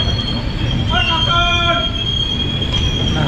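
A passenger train on a North East India rail journey brakes, its wheels letting out a high, steady squeal that rises and fades over a second or two above a constant low rumble of the moving carriages.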